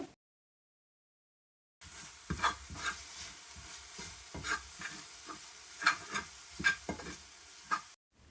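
Mint frying in a pan with coriander, cumin and garam masala powders for pudina rice, a soft sizzle with repeated scraping stirs after a silent opening, no talk.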